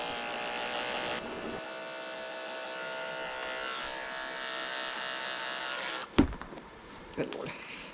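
Electric dog clippers fitted with a short 40 surgical blade buzz steadily while grooming an overdue Pekingese, a close continuous drone that cuts out near the end, followed by a couple of brief knocks.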